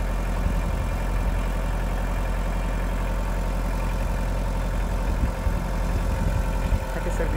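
A machine digging holes for planting asparagus on a farm runs with a steady, loud mid-to-low engine drone, close and continuous throughout with a slight chug, with no clear talking.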